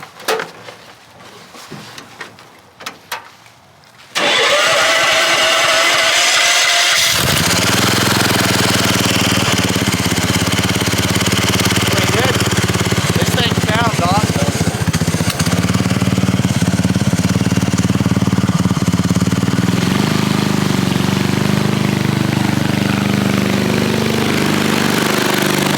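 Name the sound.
half-scale NASCAR engine running with worn clutch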